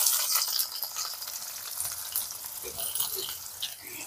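Sliced onion and cumin sizzle in hot oil in a pan, a steady crackling fry with occasional light stirring scrapes close by; no one speaks.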